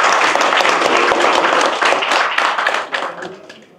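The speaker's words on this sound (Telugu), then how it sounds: "ఒక్కసారి అందరం కూడా చప్పట్లు కొట్టారు" An audience claps loudly and steadily at close range, a dense continuous burst of applause that fades out toward the end.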